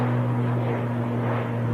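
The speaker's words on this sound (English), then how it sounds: "KLM 737-800 just breathing down the neck of the ATR." A KLM Boeing 737-800 airliner roars steadily on takeoff, a loud close engine drone with strong sustained low hum and broad rushing noise throughout.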